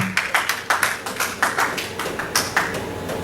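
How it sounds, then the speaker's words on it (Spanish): Church congregation clapping in a steady, rhythmic patter of separate claps, moderately near and fairly loud, with no talk over it. "Denle un aplauso, aleluya"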